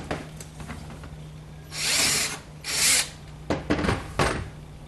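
A power drill with a 3/16 bit whirs in several short bursts while fitting a front bumper skin on a 1976 Corvette, with a couple of longer runs followed by quick stuttering pulses, close by.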